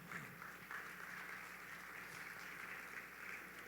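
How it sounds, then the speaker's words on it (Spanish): A church congregation applauds for the Lord during a service, with steady clapping that sounds somewhat distant and sustained for a few seconds without a break. "Denle un fuerte aplauso al Señor."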